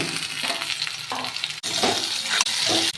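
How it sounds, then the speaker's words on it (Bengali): Fried bitter gourd is tipped into potatoes frying in a pan and stirred, making a loud close sizzle with scraping bursts and brief pauses between the stirring strokes. "এর মধ্যে ভেজে রাখা উস্তেটা দিয়ে দেব।"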